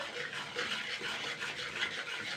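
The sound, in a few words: stirring spices in a pan for tomato pickle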